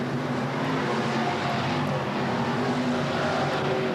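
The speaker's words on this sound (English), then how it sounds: "Great sounds out of these race cars." Race car engines at Tulsa Speedway roar in a steady, dense drone, loud and continuous, with no voices over them.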